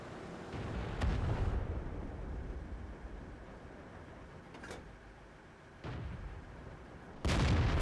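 A T32 tank in the World of Tanks video game fires its gun four times. Each shot is a loud, heavy boom spaced several seconds apart, followed by a rumbling tail and continuous low battle ambience.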